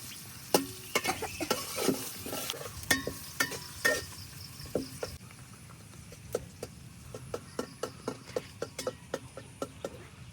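Onion and garlic fry lightly in a pan, a soft steady sizzle broken by frequent sharp clicks and scrapes of a spatula stirring, close and alone with no voices.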